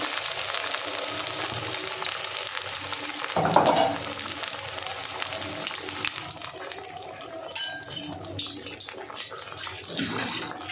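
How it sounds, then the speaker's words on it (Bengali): Pomfret fish pieces frying one at a time in hot oil, a continuous close crackling sizzle with a brief louder burst as a piece goes in, and light clatter of handling. "তেলের মধ্যে ছেড়ে দেবো। এইভাবে আমি একটা একটা করেই ভাজবো।"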